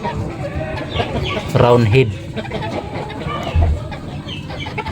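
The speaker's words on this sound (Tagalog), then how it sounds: "ito yung manok na mamahalin na manok" Expensive farm-bred hen clucking close by in a couple of short bursts, under someone speaking over it.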